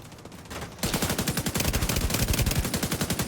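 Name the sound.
gunfire in The Division 2 video game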